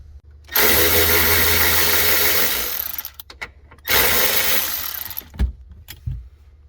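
Power tool zipping nuts off the rear shock mount of a 2013 BMW X5 (E70), two loud sustained whirring bursts with a pause between, followed by a few sharp metallic clunks, close up.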